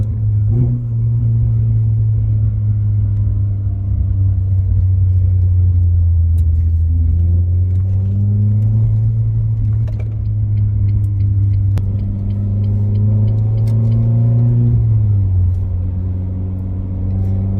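A Renault Clio RS engine drones loudly and close, its pitch rising and falling as it revs above 5000 rpm and eases off over a steady rumble.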